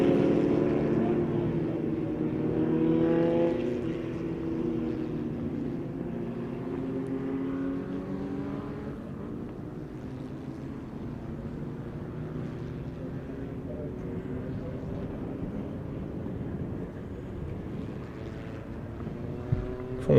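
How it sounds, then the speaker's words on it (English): Formula Vee single-seater race cars at the Aldo Scribante circuit, a continuous engine drone heard from a distance with shifting pitch as the cars run through the hairpin, moderately loud throughout. "Formula V's one of the longest standing single-seater championships in the world."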